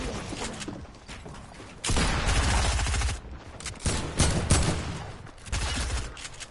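Video game gunfire in loud rapid bursts, some long and sustained, others short and clipped, separated by brief quieter gaps and mechanical clicks.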